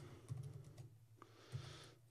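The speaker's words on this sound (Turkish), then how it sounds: "Klavyeden Enter tuşuna basıyorum" Quiet keyboard typing of a search query on a computer, with a few soft key taps spread across the moment, the clearest near the start and middle, with no talk.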